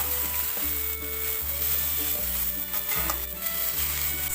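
Bean sprouts and chives are stir-fried in a wok, giving a soft, continuous sizzle with occasional stirring scrapes over quiet background music.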